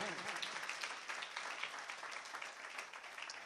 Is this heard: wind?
no